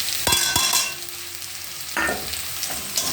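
Onions fry in a pan under a steady sizzle, punctuated by several crisp scraping and clattering stirs, a cluster early on, another around the middle and a lighter one at the close.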